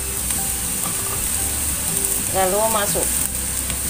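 Steady sizzling from a hot pan of green beans being stir-fried, with occasional stirring scrapes, while a person talks briefly over the frying.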